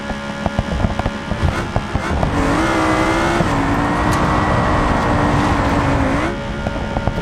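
A race car in the driving simulator BeamNG Drive, its engine revving and holding a steady high whine before dropping off, loud and continuous with bumps and rattles layered through it.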